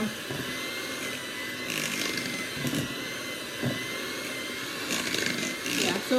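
A kitchen grinder whirs continuously, grinding cake ingredients with a loud, steady buzzing drone, as a person talks briefly over it.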